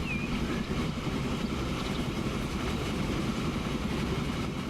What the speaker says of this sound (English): have a ride on the train on the way down to